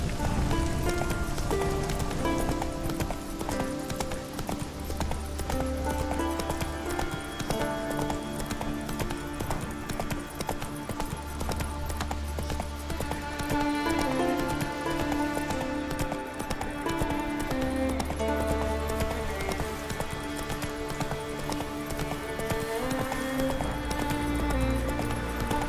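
Horse galloping in The Witcher 3, a rapid steady clip-clop of hooves throughout, layered over game music with a recurring low drone.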